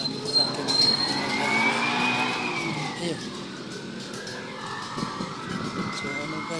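Street traffic on a busy road, with many cars passing and an engine swelling and then fading away, heard at moderate volume from the roadside while someone talks over it.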